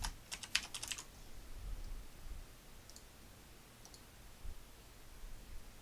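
Typing on a computer keyboard, a quick burst of close, crisp key clicks at the start followed by a few scattered taps over quiet background noise.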